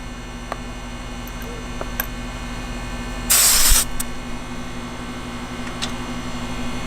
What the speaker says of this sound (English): Some refrigerant will squirt out, but most of it will stay inside.